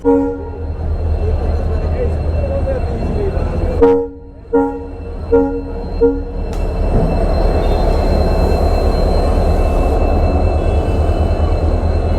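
A slow-moving train rumbles past nearby in Bikaner, Rajasthan, with steady low-frequency roar and rattling wheels, briefly dipping midway before the heavy rolling noise resumes.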